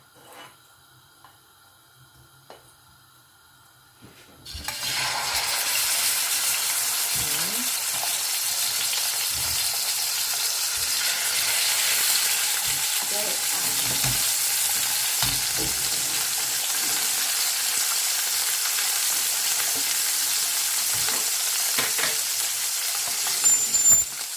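Sea bream laid into hot oil in a home kitchen pan, starting with near silence and a few faint clinks, then bursting into a loud, steady, crackling sizzle that holds for the rest of the clip.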